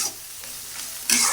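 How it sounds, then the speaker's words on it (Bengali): Dried fish frying in a pan until crispy, a steady close sizzle and crackle with stirring, rising to a louder burst near the end. "তো এখন সুন্দর করে একটু মশমশা করে ভাজে নেই।"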